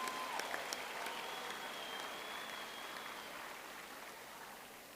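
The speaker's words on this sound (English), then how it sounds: "let's give a round of applause to all of our graduates" A graduation ceremony audience applauds the engineering graduates at a university hall in Durban, a steady, fairly distant wash of clapping that stays even from start to finish.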